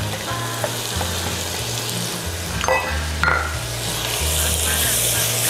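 Onions fry in butter in a pot, a steady close sizzle with occasional stirring scrapes and a low musical hum underneath, with no talking.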